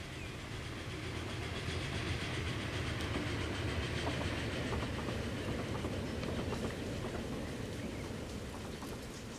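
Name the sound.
train passing on railway in video game Transport Fever 2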